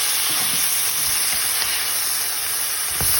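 Blue crab stir-fries with spring onions in a pan at home in Norway, a loud, unbroken sizzle and hiss with faint scraping stirs and a final clunk, no voices.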